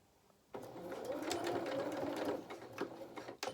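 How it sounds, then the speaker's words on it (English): A sewing machine stitches up the seam of a fabric otter toy body, a steady close whirring run of about two seconds that then slows into a few short bursts of stitching. "Then we're going to sew up, starting 1/4 inch in,"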